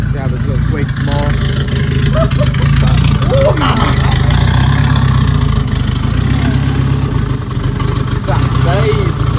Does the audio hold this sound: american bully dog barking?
no